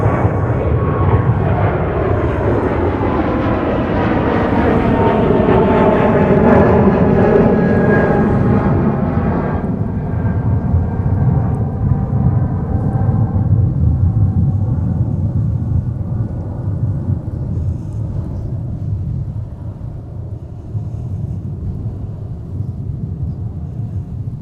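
A Delta jet takes off from runway 30 left at Minneapolis–St. Paul airport, a loud broad engine roar with a sweeping whine that swells, then slowly fades into the distance, no talking.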